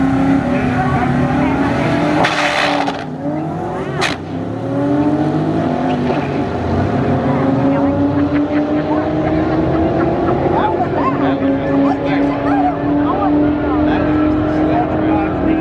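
Drag racing cars making a run at night, one with a recently replaced radiator hose, roar loudly and steadily with rising engine pitch from launch through the pass, under a brief crowd-like burst early on.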